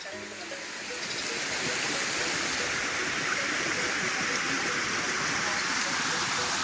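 Water pours steadily from a waterfall on a farm lot in Calauag, Quezon, a dense, continuous rushing hiss that swells in the first second and then holds loud and unbroken.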